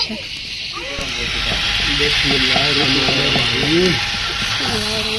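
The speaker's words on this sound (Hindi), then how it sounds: "घी भी डाल दिया है, तो बस जैसे घी को अब तिलका लग चुका है अब प्याज ऐड करेंगे।" Onions fry in hot ghee with a steady, loud sizzling hiss that builds after the first second and carries on throughout, while someone talks over it.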